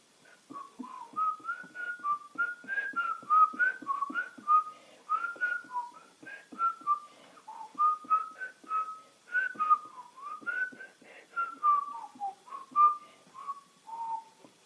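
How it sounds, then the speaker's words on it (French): A person whistles a lilting, wandering tune up close, note after note in a steady stream with brief breaths between phrases. "C'était l'instant où je siffle."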